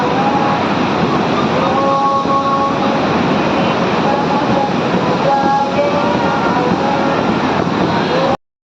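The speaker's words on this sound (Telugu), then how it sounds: "వాటర్ చూస్తున్నారు కదా, దాని ఫ్లోటింగ్ కానీ ఆ సౌండ్ కానీ అమ్మో ఎంత భయం వేసిందంటే" Loud, steady roar of water rushing through the open gates of the Krishna barrage, a dense continuous wash with no break until it cuts off abruptly.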